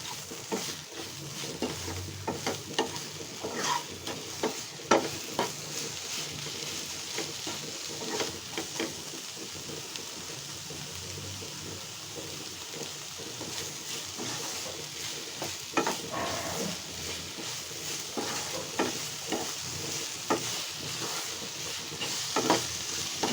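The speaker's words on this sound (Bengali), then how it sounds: "আবার একটু নাড়াচাড়া করে দেব।" Mashed bottle gourd leaves with fried black cumin seeds sizzle in a pan while a utensil stirs and scrapes, with soft irregular clinks and a steady frying hiss close by.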